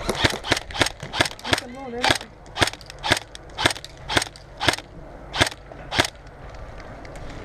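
Airsoft guns fire during an outdoor game, a close run of sharp, evenly spaced snapping shots, about a dozen in seven seconds, with a brief voice partway through.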